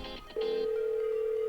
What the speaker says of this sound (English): And as you can hear, the phone's ringing.